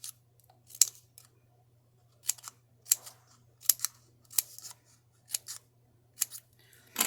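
Scissors snip through paper while making a paper compact mirror note holder: a run of crisp, close cuts in short bursts with quiet gaps between them and no talking.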